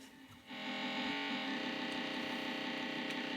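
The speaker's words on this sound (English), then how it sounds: "let's assign this something quick, like a sine wave" On an ER301 synthesizer module, a sine wave sample is played back as grains, giving a dense, buzzing, harmonic-rich drone that swells in after a brief quiet start and holds steady, with no talk.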